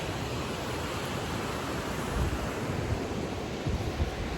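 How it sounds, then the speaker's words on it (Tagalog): Waves wash along the seaside at Barangay Bukana in a steady, hissing surf, with soft low thumps of breaking water and wind buffeting the microphone throughout. "sa tabing dagat"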